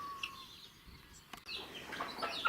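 A broody hen on her nest, flustered after a fit, giving faint clucks and squawks with a brief flutter of wings, quiet and somewhat distant over low background noise.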